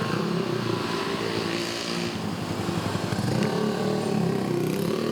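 Motorcycles ride along a Transjakarta busway lane on Jalan Daan Mogot in Cengkareng, their engines making a steady, dense droning roar of busy traffic that carries on throughout, with no one speaking.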